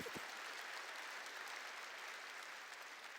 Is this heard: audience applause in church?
yes